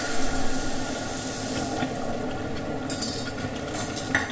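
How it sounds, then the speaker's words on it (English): Jaggery water poured into a hot pan with ghee, a continuous close sizzling hiss with a bubbling rush that brightens toward the end. "add the jaggery water"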